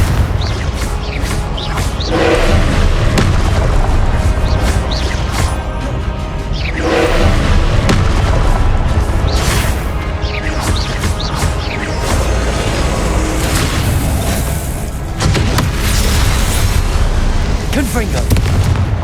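Repeated Confringo fire-spell explosions in the video game Hogwarts Legacy, loud booming blasts in steady succession over dense game noise, with spoken spell incantations mixed in.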